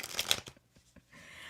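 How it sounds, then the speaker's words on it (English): Tarot cards shuffled by hand, giving a brief flurry of crisp riffling up close, then a few soft taps and a low rustle as the deck settles. "I'm going to shuffle up cards for this week"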